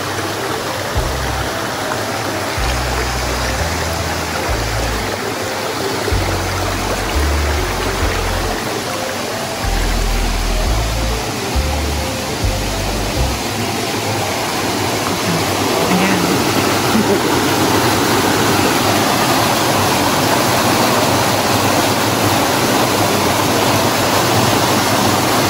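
A small waterfall on a lively creek in Tagkawayan, Quezon pours steadily in a dense, continuous rush, close and loud, with low thumps at first.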